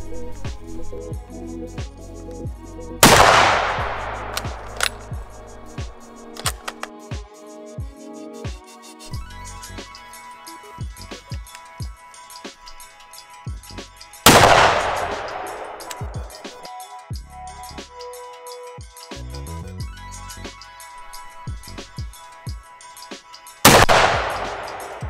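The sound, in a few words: rifle shots from .30-06 rifles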